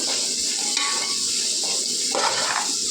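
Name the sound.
ingredients for egg fried rice frying in a pan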